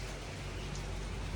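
Steady rain falls through the night outside a rural Lao house, a dense, even hiss with no breaks and no voices.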